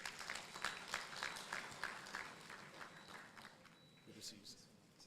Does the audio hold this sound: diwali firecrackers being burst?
no